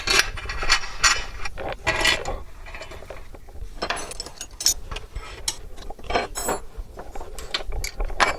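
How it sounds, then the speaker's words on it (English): Bolts being driven back in with a ratchet during a test fit, with bursts of rapid metallic clicking and pauses between turns, close and clear. "Let's put a couple bolts back in."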